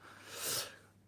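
A man sneezes once, a soft, breathy burst that swells and fades over about a second, heard close up during a relaxed conversation.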